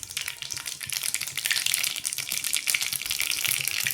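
Mustard seeds and cumin sizzle and crackle steadily in hot oil, a dense continuous hiss heard close with no talking.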